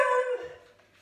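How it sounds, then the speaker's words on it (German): A family dog gives a short whining, yelping vocalization, a single tonal cry that starts loud and close and fades out within a second, heard on its own. "Der Hund sagt geil."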